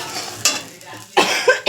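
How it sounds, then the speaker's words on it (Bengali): A person in a home kitchen gives a short cough, then a quick cluster of two or three harsher coughs, loud and close, with a few quiet pauses between. "তো সরি, একটু কাশি হয়ে গেল।"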